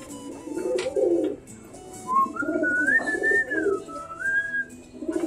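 Pet pigeons coo in low, throaty bursts close by, with a clear whistle rising and falling over them midway through.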